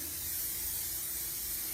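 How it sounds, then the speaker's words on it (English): Cooking spray hissing onto a foil baking pan, a steady close broadband spray lasting under two seconds with no talk over it. "I'm gonna spray my pan"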